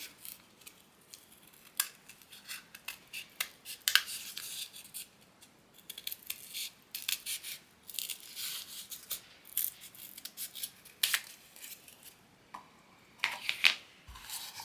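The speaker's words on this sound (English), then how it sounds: "my scissors are gonna cut this nicely. I'm gonna cut it on the line first" Scissors cut paper along a line in a long run of crisp, close snips, coming in quick uneven bursts with brief pauses between.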